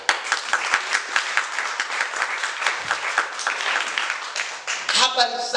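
An audience at a Bible teaching gathering breaks into sustained applause, dense clapping from many hands for several seconds, with a voice rising over it near the end.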